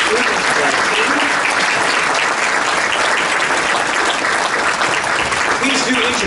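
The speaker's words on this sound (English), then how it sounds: "please, another round of applause for our entire Lutherans for Life team" An audience at the 2023 Lutherans for Life national conference applauds for a team, a dense, steady wash of clapping that holds at full strength for over six seconds.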